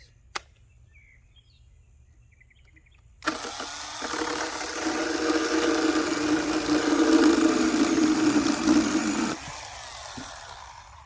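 A Ryobi 10-inch 18V battery chainsaw cuts through a 4x4 board with a knot in it, a loud steady whirring rasp of chain through wood starting abruptly after a quiet click, straining for several seconds before easing off.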